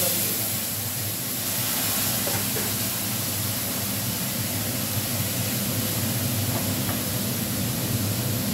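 Hot water poured into a hot cooking pan with cumin and chilli, giving a loud continuous broadband hiss that holds steady for several seconds, no talking.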